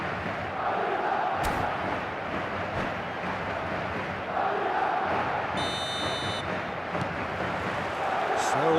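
Stadium crowd in the eFootball 2026 video game, a dense, steady roar of supporters on match day with brief electronic beeps, heard under commentators talking.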